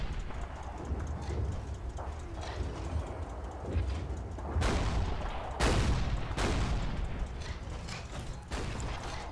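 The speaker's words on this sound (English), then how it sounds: "It's like a firing squad of tanks" Heavy tank cannon fire in the war game Combat Mission Red Thunder, several sharp booming shots cracking out over a steady rumble of battle noise, with no talk.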